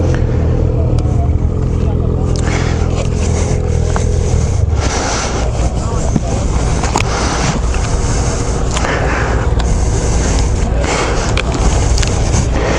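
A 2021 Ski-doo XRS snowmobile with an 850 E-TEC engine rumbles at a low idle, then pulls away driving, with a steady loud engine drone throughout and people talking over it.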